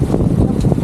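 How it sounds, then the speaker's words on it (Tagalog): Strong wind gusting outdoors, a loud low rumbling roar battering the microphone in uneven bursts, with no clear voices. "grabe ka kusog ang hangin"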